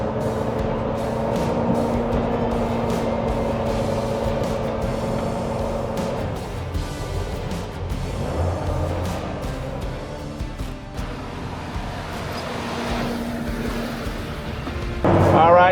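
A restored 1977 Toyota FJ40 Land Cruiser with fuel injection drives along with a steady, loud engine drone and road rumble heard from inside the cabin, rising slightly at the very end.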